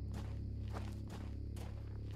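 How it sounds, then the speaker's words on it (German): Footsteps in a dinosaur horror video game, several heavy, spaced thuds over a loud, constant low rumble. "Oh nein, ich höre Schritte."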